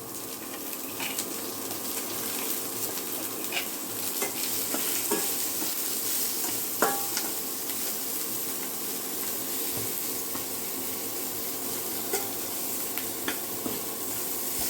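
Chopped onion fries in a pan of hot tempering oil with salt and turmeric, giving a steady close sizzle and hiss. Occasional scrapes and clinks of stirring sound throughout, with no voices.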